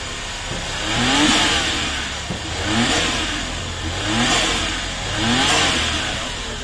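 A Suzuki DA64W wagon's turbocharged engine revved repeatedly, four swelling roars rising and falling in a steady rhythm, heard up close with a whooshing turbo-like hiss.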